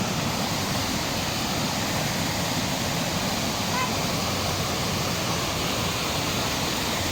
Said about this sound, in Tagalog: Ito, waterfall.